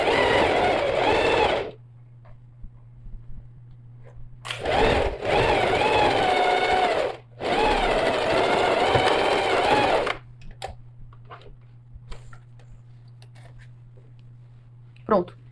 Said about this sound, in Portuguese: E posso vir e fazer a minha costura de segurança.